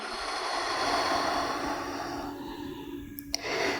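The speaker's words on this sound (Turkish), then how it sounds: "Şöyle derin bir nefes al ve ağızdan ver." A deep breath let out slowly through the mouth during a yoga class, a long soft breathy exhale that fades out and stops near the end, with no talking.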